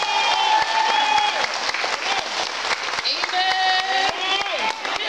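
Loud, sustained applause from a church congregation fills the hall, with cheering and tonal voices or music rising over the dense clapping throughout.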